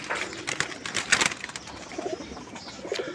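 Soft pigeon cooing mixed with bursts of wing flaps as male pigeons land nearby, fairly quiet with irregular rustling.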